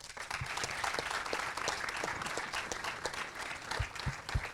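Live audience at a cinema show in Lorient applauds steadily for several seconds, a dense wash of clapping with a few louder nearby claps toward the end.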